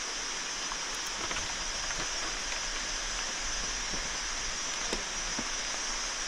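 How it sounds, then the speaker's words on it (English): Steady rain hisses evenly through a Borneo rainforest, a dense wash of falling water with scattered heavier drops tapping nearby. "And it's raining."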